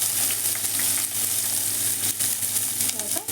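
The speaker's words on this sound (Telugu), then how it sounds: "మినప్పప్పు, శనగపప్పు వేగుతున్నాయి" Urad dal and chana dal fry in a pan, making a constant close crackling sizzle with occasional stirring sounds throughout.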